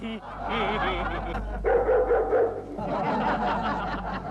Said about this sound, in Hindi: ये भौंकने की आवाज कहाँ से आई?